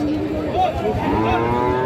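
A Friesian or crossbred bull calf at a busy open-air cattle market moos loudly and close by, a drawn-out low call against the steady murmur of the crowd.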